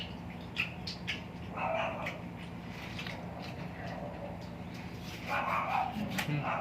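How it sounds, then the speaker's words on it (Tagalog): A dog barks a few times at a distance, short yaps standing out over a steady background hum and faint chatter. "Kaya guys, pasensya na sa aso."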